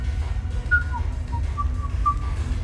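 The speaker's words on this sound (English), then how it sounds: "Are you whistling?" A melodic whistled tune in Mass Effect, a handful of short rising and falling notes over a steady low background hum, moderately near.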